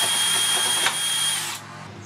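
Power pipe notcher cutting into a steel tube for a drift trike build, a steady high-pitched whine with a grinding edge that winds down near the end, loud and close with no talking.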